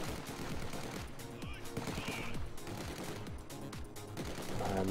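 Heavy machine gun fire rattles in bursts in the World War II strategy game Company of Heroes 2, repeated sharp reports at mid distance over battlefield noise, with a voice talking faintly underneath.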